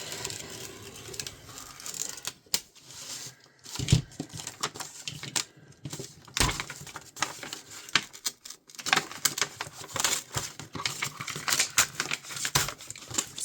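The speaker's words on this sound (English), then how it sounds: "paper rotary cutter. This one is broke. And this one I never put away. And we're just going to cut that." A rotary paper cutter slices through junk-journal paper, with irregular crisp crinkling and scraping bursts, some sharp clicks and brief pauses between strokes, close and fairly quiet with no talk.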